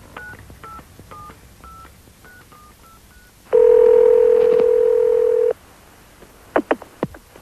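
A touch-tone telephone number is dialled as a quick run of short beeps, followed by a loud steady tone lasting about two seconds, then a few sharp clicks.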